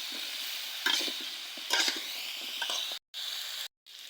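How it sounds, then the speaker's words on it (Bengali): Cauliflower pieces fry with salt and turmeric in a pan during village night cooking, a steady close sizzle broken by a few louder scraping stirs and two short pauses. "কপিগুলো ভাজা হয়ে গেছে, এবার নামিয়ে নেব।"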